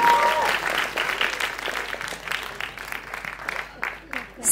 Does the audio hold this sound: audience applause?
yes